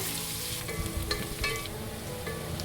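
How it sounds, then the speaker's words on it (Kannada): Onions sizzle and fry in hot oil in a pan for a North Karnataka tomato dish, a steady crackling hiss with a few sharper pops and stirring scrapes, close and moderately quiet with no talking. "ಇವಾಗ ಚೆನ್ನಾಗಿ ಎಣ್ಣೆ ಜೊತೆ ಈರುಳ್ಳಿ ಫ್ರೈ ಆಗಬೇಕು"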